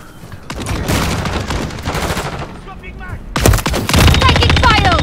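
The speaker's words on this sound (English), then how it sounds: "Taking fire!" Gunfire in a Call of Duty multiplayer match: loud, dense bursts of automatic rifle fire and shots crack in rapid succession, pausing briefly before another heavy volley, with faint voice chatter mixed in.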